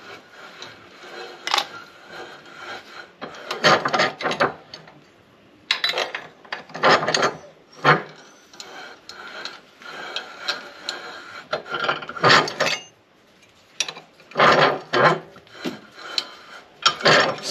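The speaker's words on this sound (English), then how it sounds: "I might just put it in the jaws of the vise and flatten it." Metal horn bracket being squeezed flat in the jaws of a bench vise for a 2016-2019 Chevy Cruze horn upgrade: repeated bursts of rasping, ratcheting metal scraping and creaking, close and fairly loud, with short pauses between them and no talk.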